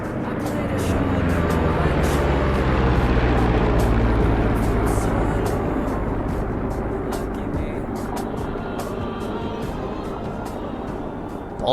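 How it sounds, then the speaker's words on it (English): A P-47 fighter aircraft makes a bottom-up pass at an air show with its landing gear dropping, its loud sustained propeller engine roar holding steady for about twelve seconds and easing slightly toward the end, with no talking. "Buck will now perform a bottom-up pass while simultaneously dropping the landing gear, giving you a great look at how the hydraulic system operates"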